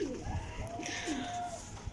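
Pigeons or doves on a rooftop give soft, repeated coos that rise and fall, close by against a busy outdoor background, with no one talking.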